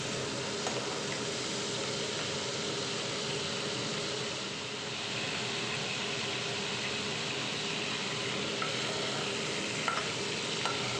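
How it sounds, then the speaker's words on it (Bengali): Shrimp fry lightly in hot oil while being stirred, producing an even, rushing sizzle that holds steady throughout with no voices. "চিংড়ি কিন্তু বেশি ভাজবো না, একদম হালকা করে চিংড়ি আমি ভেজে নেব।"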